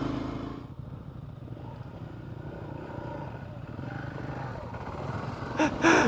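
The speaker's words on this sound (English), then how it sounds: "Mark says, I can't believe I rode the Hornet down here" A Honda Hornet motorcycle rides a dry hill track on the Yarrarabula Creek climb at Mt Buffalo, its engine a steady low drone throughout, with a sharp louder burst near the end.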